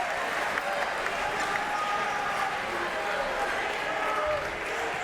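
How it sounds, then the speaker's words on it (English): A loud crowd roars and cheers continuously in a gym during a high school boys volleyball championship match, a dense, steady wall of yelling with faint individual shouts and occasional squeaks rising from it. "Very loud crowd again. They have been just yelling since the first point in game 1."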